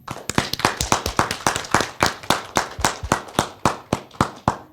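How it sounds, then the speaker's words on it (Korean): Hands clap close by at the close of a child-care policy forum, a quick, regular rhythm of sharp, loud claps that stays steady throughout. "마지막으로 큰 박수 부탁드리겠습니다."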